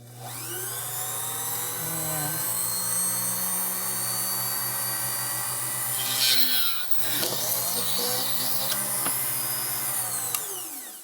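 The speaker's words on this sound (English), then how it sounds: "then I'm going to turn on my drill press" A drill press whirs steadily at close range drilling a hole in a whale tail pendant, its motor drone holding for several seconds, dipping briefly as the bit bites in, then spinning on.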